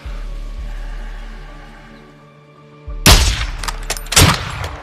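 Gunshots in Modern Warfare II ring out after a low, sustained drone fades to near quiet. Two loud, close reports hit in the final two seconds, each with a crackling tail.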